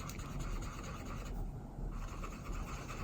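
An Arteza Everblend marker with its chisel tip is dragged across paper in a soft, continuous rubbing scratch, close and quiet, with a slight pause partway through.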